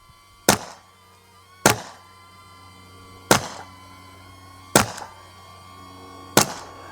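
An Umarex T4E HDP 50 CO2 less-lethal pistol fires rubber balls at already-shot pumpkins, five sharp, separate pops spaced about a second or more apart, each followed by a short hiss, with a faint hum in between.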